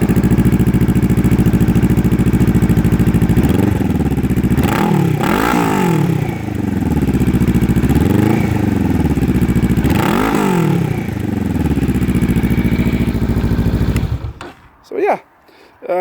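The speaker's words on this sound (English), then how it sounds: "I want to start the bike for you so we can hear it." A 2019 Honda Rebel 500 motorcycle with an upgraded aftermarket exhaust idles loudly, then revs up several times in quick, close bursts before the engine cuts off near the end.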